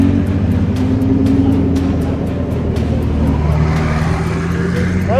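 A convoy of supercars including a Lamborghini, Porsche and McLaren rolling through Jodhpur, with loud, steady engine drone and rising revs throughout, close and continuous.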